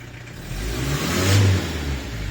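A slightly rusty Ford Fairmont AU with a weak battery catches and revs, its engine roaring loud and close, swelling to a peak and easing back without any talk.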